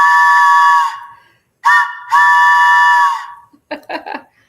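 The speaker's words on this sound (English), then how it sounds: "that's probably the most whistle blast we've done" A loud, close train whistle sounds in three blasts: a long one, a short one, then another long one, each with harmonic tones. A brief burst of excited voices follows.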